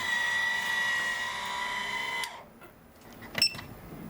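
A newly wired ceiling fan in a vintage camper trailer gives a steady, faint motor whine for about two seconds, then cuts off, followed by a brief click.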